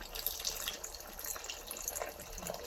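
Tamarind water poured into a pot of sour curry with flowers of the vegetable hummingbird tree, a soft continuous splashing and trickling of liquid, close and fairly quiet, with no talk.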